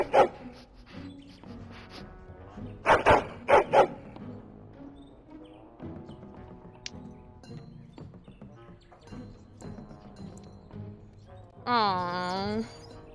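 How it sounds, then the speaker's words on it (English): A dog in the video game Dragon Age: Origins gives a few sharp barks and yips amid game sounds and a player's talking, with a whining, rising tone near the end. "Oh, such a beautiful doggy."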